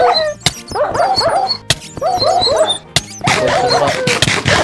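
Several dogs in Minecraft bark and yip in quick overlapping bursts, with whimpering cries between, loud and close, with sharp clicking sounds in between.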